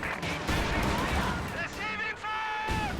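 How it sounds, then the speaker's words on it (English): Grenade detonation in Company of Heroes, a heavy blast with rumbling low-end impacts and battle noise, overlaid by an excited commentator's voice throughout the short moment. "That is the third grenade that is detonated."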